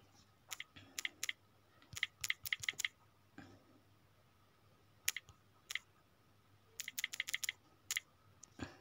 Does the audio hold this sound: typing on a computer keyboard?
yes